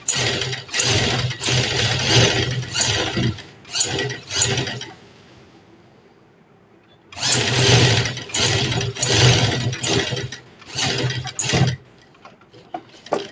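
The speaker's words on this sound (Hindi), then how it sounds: "किनारे पर सिलाई लगानी है।" A sewing machine runs in loud, steady bursts while stitching along the edge of a qameez, with a pause in the middle before it resumes running close by.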